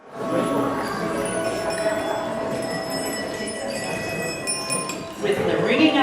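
A ceremonial peace bell rings with sustained, shimmering metallic tones that hang and overlap over a soft background murmur of people.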